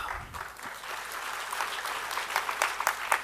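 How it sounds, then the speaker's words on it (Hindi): Scattered clapping from a crowd, steady and moderately loud, with sharper claps standing out toward the end. "यहां तक भी तालियां आपकी अच्छी हैं,"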